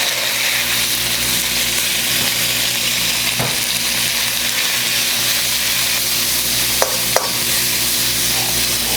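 Pork stir-frying in hot oil in a pan, a steady broadband sizzle with a couple of sharp clinks from a utensil on the pan, close and continuous with no talking.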